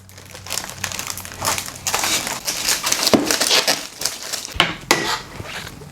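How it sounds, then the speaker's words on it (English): Shipping tape is pulled and pressed onto a large handmade Krampus figure, giving loud, close crinkling and sticky tearing bursts in irregular clusters, with no one speaking. "Now I'm going to tape this in place, some shipping tape"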